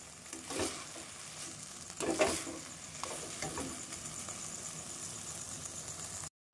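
Thickening sugar syrup for sago laddu being stirred in a pan, with soft intermittent scraping strokes over a low bubbling sizzle, fairly quiet and close, no talking.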